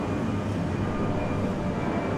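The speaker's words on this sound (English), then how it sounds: "It's an airplane." An airplane flying overhead produces a loud, steady broadband roar, a continuous rumbling wash of noise without breaks and no speech over it.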